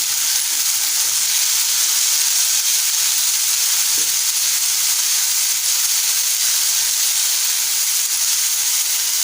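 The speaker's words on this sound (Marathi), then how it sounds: "दोन मिनिटं आपल्याला छान तेलामध्ये परतवायचं आहे" Sprouted lima beans sauté with softened onion in hot oil, giving a loud, steady, close sizzle and hiss that runs unbroken throughout, with a faint stir near the middle.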